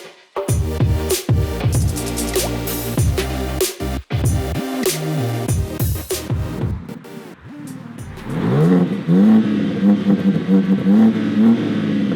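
A new BMW M3 Competition accelerates hard. The engine roars loudly and climbs in pitch with each gear, then settles into a sustained high-speed drone with some wind noise.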